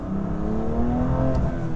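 A BMW M2 Competition with a six-speed manual accelerates hard, its engine note a loud, steady, rising drone heard from inside the cabin with no talking.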